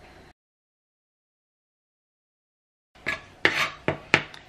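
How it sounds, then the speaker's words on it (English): A knife cuts hot dogs into small pieces on a board, a few sharp, close taps and scrapes in a quick run after a silent gap. "So I usually cut them in half and then half again and then cut them the other way really small."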